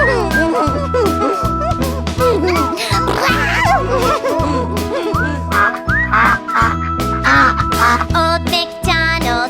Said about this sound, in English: And on that farm is a baby duck, E-I-E-I-O. With a quack, quack